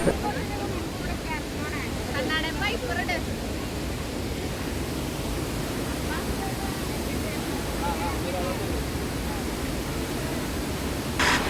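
Steady, roaring rush of falling water at the foot of Athirappilly waterfall fills the whole stretch, with faint bird chirps cutting through early on.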